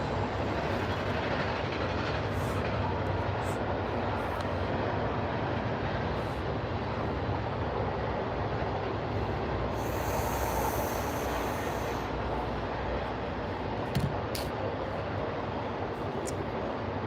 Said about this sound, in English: We got a 4-engine pull. He's got it opened all the way up, bro.